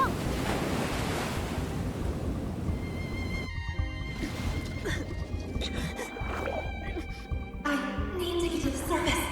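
Ocean waves wash and surge continuously in an underwater scene from the video game Love and Deepspace, with a steady, full roar carrying wind-like noise and faint tonal game sounds layered over the water throughout.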